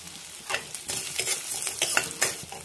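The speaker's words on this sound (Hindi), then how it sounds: "अब मैं इसको डाल के भून लेती हूँ।" Edible gum frying in hot ghee for sattu laddu, a dense crackling sizzle with repeated scraping stirs in an irregular rhythm, close and fairly loud, with no voices.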